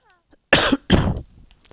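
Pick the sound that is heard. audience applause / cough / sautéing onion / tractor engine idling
cough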